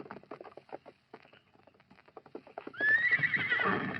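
A run of light, irregular hoof clops is followed by a loud, close horse neigh that rises sharply and trails off, all without any speech.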